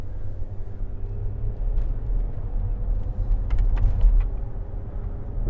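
A Range Rover Sport 3.0 SD V6 HSE diesel cruises along with a steady low engine and road rumble inside the cabin, plus a few faint clicks and rattles midway, with no voices.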